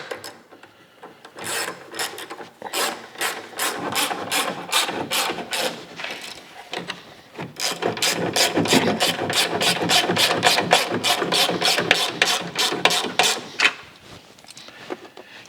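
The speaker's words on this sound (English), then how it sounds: "Then I'm going to run these nuts in, just so they're loosely snug." Ratchet turning nuts onto a tow mirror mount on a 2005 Ford F-350, a long run of rapid, close clicking strokes that speed up and continue steadily for most of the clip.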